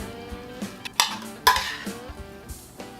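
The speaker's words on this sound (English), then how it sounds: "First I'm gonna stir this around." Food is stirred in a pan with a utensil, giving a series of close metallic clinks and scrapes in an uneven rhythm, two sharper knocks standing out, with no talking.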